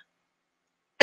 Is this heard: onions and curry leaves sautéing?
no